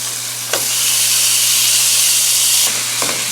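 Steakums thin beef slices fry in butter in a hot pan, a loud steady sizzle and hiss that swells as the meat goes in and holds close and continuous, with a few soft scrapes of movement.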